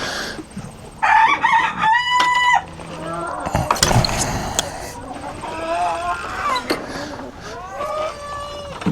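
An old chicken on a small farm crows several times, close and loud, with rising, drawn-out calls mixed with shorter clucks in between.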